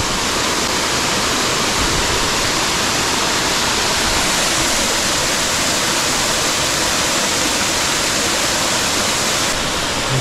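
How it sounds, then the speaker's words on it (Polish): Kamieńczyk waterfall in the mountains roars with a steady, dense rush of falling water, loud and close, continuous and unbroken with no voices. "Wodospad Kamieńczyka"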